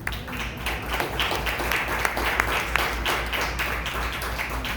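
A church congregation claps steadily throughout a Spanish-language sermon, a dense, even patter of many hands that stays at a moderate level from start to finish.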